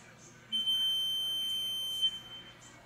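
A steady high-pitched electronic buzzer tone from an OP 900 light tower sounds continuously for about a second and a half, then cuts off, close by against a quiet background.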